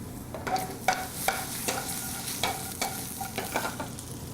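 Food sizzles loudly in a pan as it is flipped and stirred, with a steady frying hiss broken by repeated scraping strokes and clinks at an uneven rhythm, and no talking.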